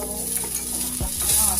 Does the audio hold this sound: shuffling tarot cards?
no